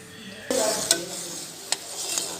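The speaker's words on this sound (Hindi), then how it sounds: "ये देखिए ये शीरा पक रहा है हमारा" Besan halwa sheera frying and being stirred in a pan, a close continuous sizzle broken by a few sharp scrapes of the spoon against the metal.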